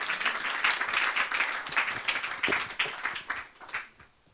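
An audience claps steadily to welcome primary school pupils onto the stage at an evening school event, with dense, even applause that fades out at the end.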